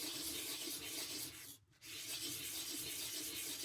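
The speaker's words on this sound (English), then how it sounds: "So just using 240 grit, I like to sand in figure of 8 motion, turning the ring as you go" A jeweller's spinner ring hand-sanded with 240 grit sandpaper in a figure-of-eight motion, a continuous close, soft rasping rub that stops briefly midway, then resumes steadily.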